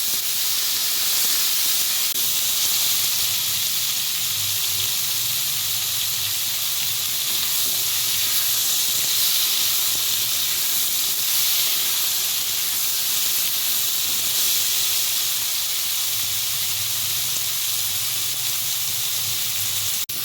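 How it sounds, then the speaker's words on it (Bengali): Mixed winter vegetables fry in a pan with salt and turmeric, giving a loud, steady, close sizzle and hiss that runs unbroken throughout with no talking. "এবার সব সবজিগুলো আমি একটু ভেজে নেবো।"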